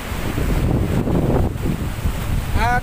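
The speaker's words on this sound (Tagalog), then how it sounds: "Kaya malalaki po yung alon dito, gawa ng nasa kaluangan na po siya ng karagatan." Open-sea waves roll in at a beach in Batangas City, a continuous loud surf wash buffeted by heavy wind noise on the microphone, with a brief tonal sound near the end.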